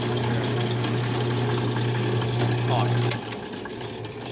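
Carbide hole saw cutting a hole through a toilet paper dispenser build, a steady loud grinding drone with a low hum that drops off near the end, a brief voice over it.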